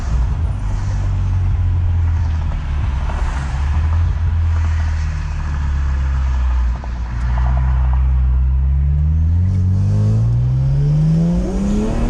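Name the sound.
BMW 335i accelerating hard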